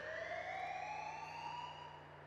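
In GTA V roleplay, a prison alarm goes off as a continuous electronic siren tone slowly rising in pitch, steady and fairly loud, fading slightly toward the end.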